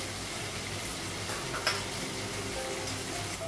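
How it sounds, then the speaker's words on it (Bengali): A spice paste of cumin powder, turmeric, garlic paste and salt frying in a pan gives a soft, steady, fairly quiet sizzle throughout, with one faint clink of a utensil midway. "মশলাটা একটু ভেজে নেব"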